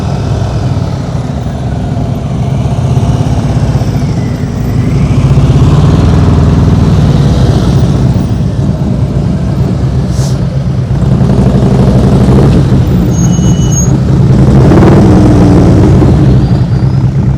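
A motorcycle engine runs through a slow-speed riding practice around cones, a steady low rumble that swells slightly as the throttle opens, moderately close, with no talk over it.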